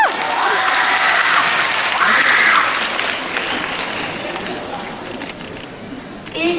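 Loud, sustained clapping from a fan-meeting audience that fades gradually toward the end, with brief voices rising over it.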